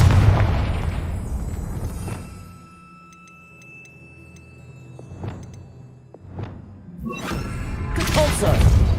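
A Confringo blasting spell in Hogwarts Legacy sets off several separate explosive bursts, with quiet gaps and faint ticking between them. A loud blast closes the sequence, and speech is heard in places.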